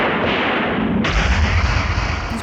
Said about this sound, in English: He's great at shooting the ground, which is coincidentally the easiest place to plant movie explosives.